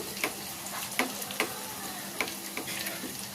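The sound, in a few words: hot oil spooned over frying khaja pastry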